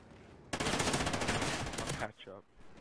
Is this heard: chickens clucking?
no